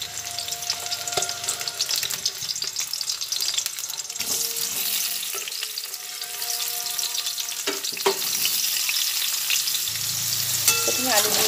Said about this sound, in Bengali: প্রথমে আলু দিয়ে দিয়েছি। আলুটা এরপরে অল্প করে ভেজে নিচ্ছি।